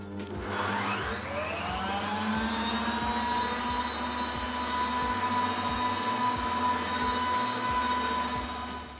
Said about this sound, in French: Et on bat à pleine vitesse.